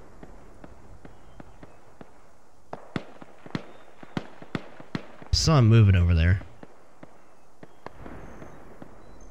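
Sharp, distant gunfire from the video game Arma 3 cracks at a steady, irregular pace, briefly interrupted by someone talking in the middle before faint shots resume.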